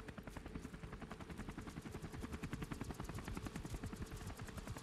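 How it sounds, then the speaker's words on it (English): A helicopter arrives in Call of Duty Modern Warfare Remastered, its rotor giving a fast, steady chop that runs throughout, fairly faint and dense, with no voices. "Helicopter's here."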